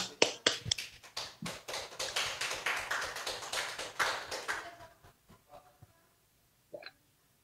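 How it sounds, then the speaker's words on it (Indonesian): Audience applause at a plenary session: a burst of clapping from a crowd, close and lively for about five seconds, then fading into a few scattered claps and near silence. "Kita beri tepuk tangan."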